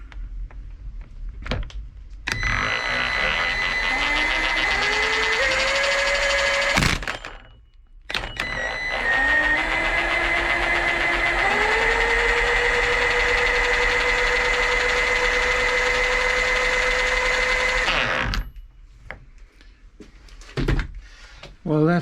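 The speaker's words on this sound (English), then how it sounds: "I'm just going to put this rattle gun onto this and see what happens" A rattle gun spinning a dry Velocette 500 four-speed gearbox, a loud sustained whirring drone with rising pitch, running in two long bursts broken by a short pause, with clunks and handling knocks around it.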